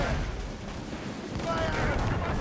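A brief, dense burst of ship cannon fire in an Assassin's Creed Rogue sea battle, with loud rumbling blasts that build slightly toward the end under shouted crew voices.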